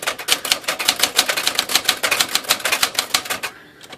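A Smith Corona manual portable typewriter clacks in a fast, steady run of sharp keystrokes, close and loud with no voices, then falls quiet near the end.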